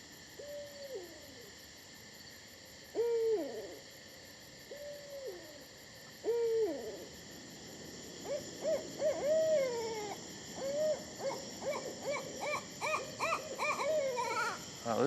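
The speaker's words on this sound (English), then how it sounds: "This is a barred owl." A barred owl hoots in a New York City park in summer, repeated clear calls at first spaced apart, then building into a rapid, excited run of hoots over a constant insect hum.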